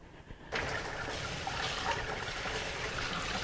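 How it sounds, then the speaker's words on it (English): Mussels being rinsed in a sink: a tap opens after a half-second pause, then running water splashes steadily and softly close by, with no talk. "So now I'm going to wash them and give them a little rinse."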